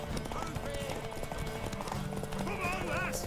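Horse hooves clip-clop in the video game Witcher 3, a rhythmic run of hoofbeats under game voices and background score, with a brief whinny-like tone near the end.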